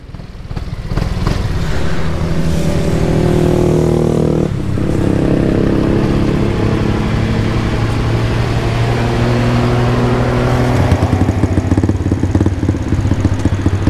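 A black BMW jet scooter's engine drones loud and close throughout the ride, holding a steady, rough note with small shifts in pitch as the throttle changes.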